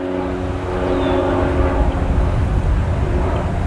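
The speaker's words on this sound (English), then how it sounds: "Oh, airplane." An airplane flies overhead outdoors, a steady broad engine roar with a faint tonal whine, holding loud and even throughout.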